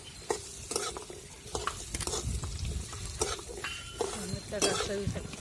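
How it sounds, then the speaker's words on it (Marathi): Raw mango pieces are stir-fried in a pan for pickle over a medium flame, a close sizzle broken by repeated scraping and clinking spoon strokes, with some faint voices. "कैरी आता एकदम मस्त परतून घ्यायची आपल्याला"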